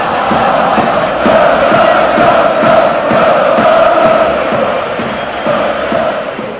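Large football crowd at a Red Star Belgrade match in Belgrade, a loud, continuous roar of cheering and chanting that swells and rises in waves, then eases off slightly near the end.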